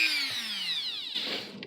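A Dremel rotary tool gouges into foam while building a cosplay mask, its high whine steadily descending in pitch under load for over a second, then easing as the bit bites in, close and loud.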